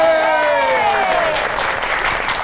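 A studio audience claps warmly for poet Shabnam Majeed as she is welcomed onto a Pakistani comedy talk show, a dense, steady patter of hands with a voice briefly trailing over the start and fading under the clapping.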